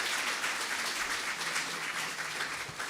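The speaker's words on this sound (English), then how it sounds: "Let's give this second panel a round of applause again for coming up here." An audience at an emancipation anniversary panel discussion applauds the second panel, a steady wash of many hands clapping at moderate distance that continues evenly throughout.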